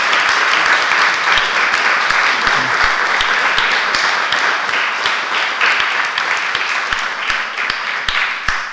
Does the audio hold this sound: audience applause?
yes